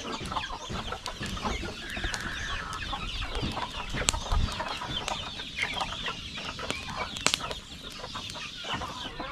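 Hens clucking steadily with scattered squawks and a brief flutter of wings, a busy poultry-yard chorus close by.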